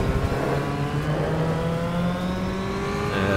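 A 1991 Ford Sierra ATCC race car in a racing game accelerates with a steady, loud engine drone whose pitch climbs gradually, heard up close without speech.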